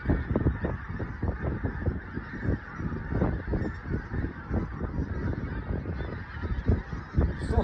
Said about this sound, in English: Still amazed by all them geese.